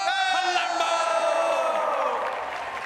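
A large crowd cheering and whooping for Palermo at TwitchCon 2022, with loud, sustained yells and screams filling the hall and slowly fading a little toward the end.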